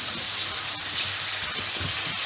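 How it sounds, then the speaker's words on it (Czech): Small potatoes fry in a kettle, giving off a loud, steady sizzle and crackle that stays dense and unbroken, with no voices. "Po 20 minutách ještě pořád smažíme."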